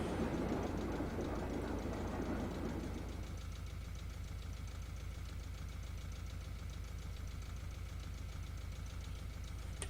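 A BR294 diesel locomotive in Train Simulator 2015 on the Hamburg–Hanover route idles with a steady low knocking engine throb, and a louder rushing blend in the opening seconds falls away to the constant idle.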